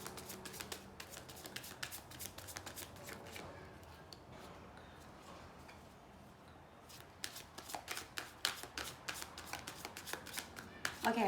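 Tarot cards are shuffled in repeated quick riffling bursts, close and crisp, easing off in the middle before growing busier and louder near the end, with a soft voice murmuring in places.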